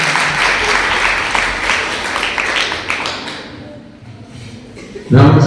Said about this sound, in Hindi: सही उत्तर, जोरदार तालियां, जोरदार तालियां।